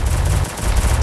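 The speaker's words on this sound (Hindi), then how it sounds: "अभी आप देख रहे हैं यहाँ पर बहुत ज़्यादा गोलियाँ चल रही होती है" Rapid, dense gunfire from a shooter video game rattles continuously through the whole second, loud and unbroken with only a brief dip midway.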